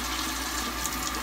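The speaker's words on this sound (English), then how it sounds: "So, empty the water out" Water is emptied out of a glass beaker in a brief, steady pouring gush, close and fairly quiet.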